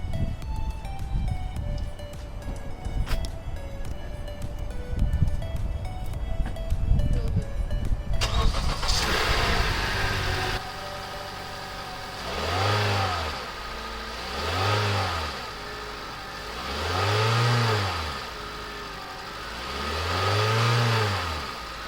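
A 2016–2020 Honda Civic with a K&N cold air intake cranks and starts over background music, then revs up and down in four or five rising and falling swells, close and loud.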